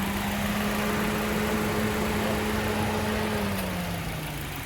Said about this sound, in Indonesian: ini mesin Suzuki SL7 versi Zeta manual